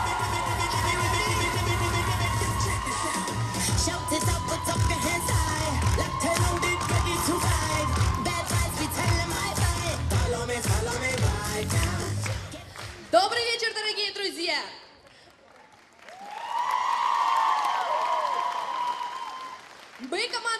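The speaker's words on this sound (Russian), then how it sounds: "Ваши аплодисменты!" Audience applause for a student KVN comedy team at a regional league festival, dense loud clapping and crowd noise under music for about thirteen seconds, then fading into short voiced passages and a quieter stretch.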